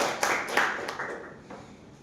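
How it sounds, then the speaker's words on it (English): A small meeting audience claps briefly: a few scattered claps ring out near the start, then thin out and fade. "we should clap for each of them"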